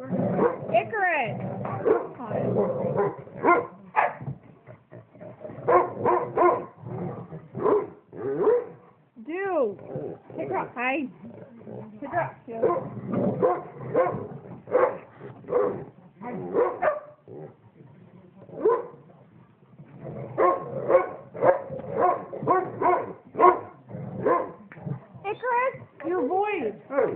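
A dog barks and yips over and over at close range, in short bursts with brief pauses, sometimes sounding almost like whining.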